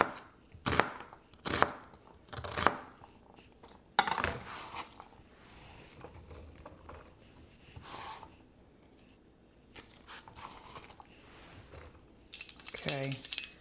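One large sweet onion chopped on a cutting board in a home kitchen, several sharp knife thunks in a loose rhythm, followed by quieter rustling and clatter under a person talking.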